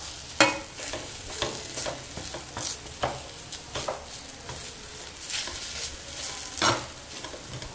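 Bedmi poori filling is pressed and stirred in a hot wok, giving repeated irregular scraping strokes of a spatula over a low frying sizzle, close up with no talking.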